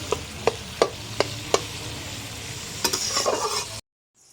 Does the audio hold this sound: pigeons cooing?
no